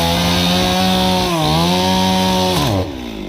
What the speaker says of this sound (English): let me show you in real time just how fast the blade can fly off of a chainsaw